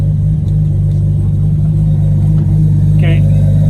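A 1994 Toyota Supra engine idles on its turbo timer with the key removed, a loud, steady low rumble close by, with a brief higher chirp near the end.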